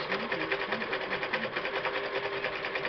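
A sewing machine stitches fabric, its needle chattering in a fast, even mechanical rhythm that runs steadily throughout at close range.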